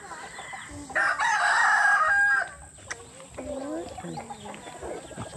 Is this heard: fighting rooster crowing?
yes